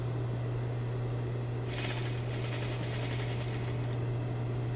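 A sewing machine runs in a short burst of rapid stitching along a garment seam, starting partway through and stopping before the end, over a steady low electrical hum.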